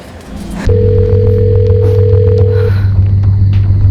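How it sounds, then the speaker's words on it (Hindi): A loud, steady electronic telephone tone starts after a brief pause and holds unbroken, with a low hum underneath and no one answering. "कब से फोन लगा रही हूँ लेकिन वो फोन ही नहीं उठा रहे"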